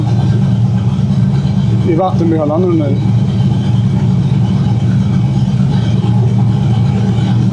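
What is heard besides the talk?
Chevrolet big-block engine running on a dynamometer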